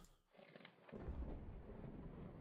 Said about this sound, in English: continue this conversation with Genevieve, you hear a sound of thunder reverberate in your ears.